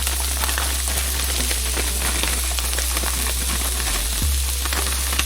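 Whole broccoli pieces go into a hot pan with onion, giving a loud, steady sizzle and crackle close by, with a brief knock of the pan near the end and no talk.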